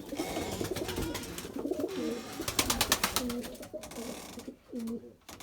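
Pigeons coo softly in repeated low, throaty phrases amid a busy outdoor background with rustling and brief clattering noises.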